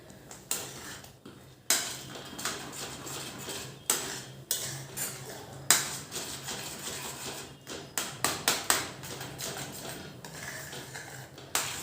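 A spoon stirring besan pithla in a pot, with irregular metallic clinks and scrapes against the sides in bursts, separated by quieter pauses with a low background hum.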